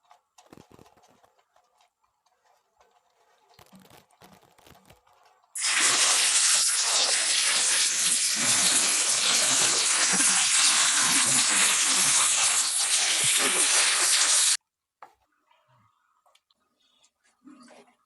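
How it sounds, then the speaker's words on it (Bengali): Chopped potatoes, green chilies and carrot go into a boiling pot of khichuri, setting off a loud, steady hissing sizzle that lasts about nine seconds and stops abruptly, with quieter clatter before and after. "দিয়ে দেবো কাঁচামরিচ, গাজর কুচি,"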